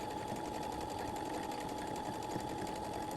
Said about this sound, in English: Always sew from the right side with the twin needle.